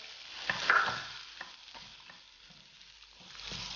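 Chopped onion sautés in a pan for barnyard millet upma: a soft, close sizzle broken by a few scraping stirs and light clicks of a spoon, with no voice.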